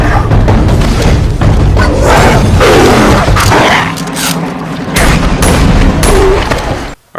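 A Mark 23 .45 pistol fires loud, heavy shots in quick succession, with booming reports overlapping into a dense barrage before cutting off abruptly.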